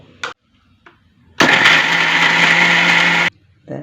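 A mixer grinder runs for about two seconds, grinding 10–15 cashews and 10 almonds into a fine paste for a Kerala-style egg kurma, loud and steady. Brief clicks come before and after the motor.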